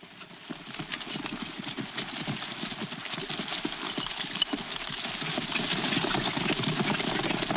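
Many hooves pound in a fast, continuous clatter that builds steadily louder, a group of horses galloping close by with no voices, in a 1940 western film.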